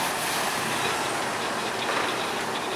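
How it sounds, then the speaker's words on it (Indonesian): A locomotive shunts lorry wagons on a triangular railway junction, giving a steady, loud rolling rumble and rail noise with no talking. "rangkaian lori yang awalnya berada di belakang lokomotif akan dipindah di depan lokomotif dan akan didorong oleh lokomotif"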